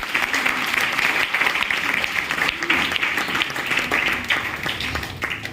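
Audience at a Safeshop meeting venue in Aligarh giving loud, sustained applause, a thick, even roar of many hands clapping that holds steady throughout and eases slightly at the end.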